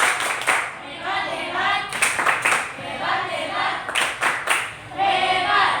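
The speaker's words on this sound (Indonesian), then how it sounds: "Kita beri tepuk tangan dulu buat kelompok 3. Kurang semangat, kita tepuk hebat dulu." Classroom of students doing a rhythmic group clapping chant, bursts of claps alternating with voices chanting in unison, loud and close in a repeating pattern.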